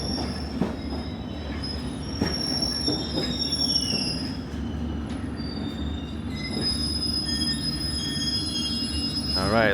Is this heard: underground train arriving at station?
yes